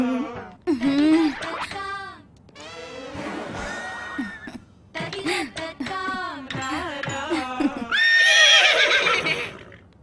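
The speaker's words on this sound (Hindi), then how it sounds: "ये मामूली घोड़ी नहीं है, ये अरेबियन घोड़ी लगती है।" An Arabian mare neighs and whinnies in several loud, shaky bursts close by, the calls rising and breaking over about ten seconds with brief pauses between them.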